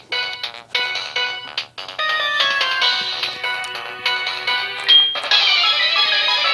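Chiptune-style background music from the Union Cave area of a Pokémon game plays in bright, bleepy synth tones with a busy melodic line, fairly loud and uninterrupted by talk.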